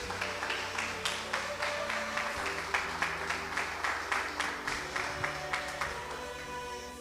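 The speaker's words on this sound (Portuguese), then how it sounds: "Você pode aplaudir o Senhor Jesus?" Congregation applauding Jesus during a worship service held in a garage; rhythmic, evenly spaced group clapping in time, over sustained music.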